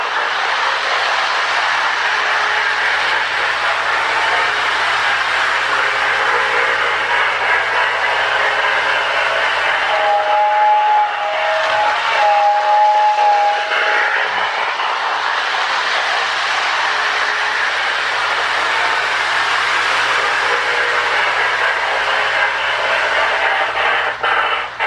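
Restored early MPC-era Lionel model steam locomotive with a sound-of-steam tender, running with a steady chuffing rush and sounding its electronic whistle in a pair of sustained tones midway through, no talking.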